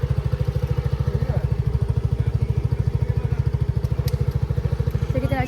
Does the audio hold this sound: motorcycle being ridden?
yes